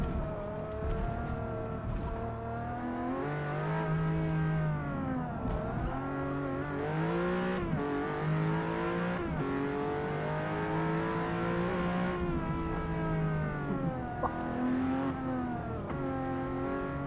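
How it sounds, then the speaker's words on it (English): Pagani Zonda V12 in a racing video game, a loud, textured engine howl rising and falling through gear changes for the whole stretch, with brief dips between shifts. "I don't remember the Zonda V12 in this game sounding that good."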